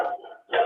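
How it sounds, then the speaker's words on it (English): A dog barking at a distance during a remote meeting, two short barks separated by a brief gap, fairly clear and not under talk. "Somebody has a dog that's hungry."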